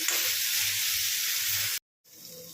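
Onions sizzle steadily in a pan for a tomato egg curry, a dense close frying hiss that cuts off abruptly near the end before faint sizzling returns.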